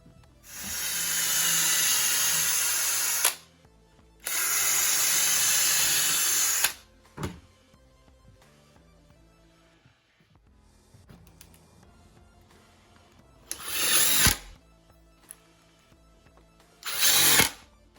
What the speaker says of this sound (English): So then when I drill in, it's all locked in.